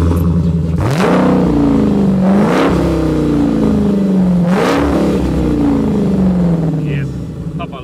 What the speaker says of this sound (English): Why don't we listen to the demonic sound of this muscle car?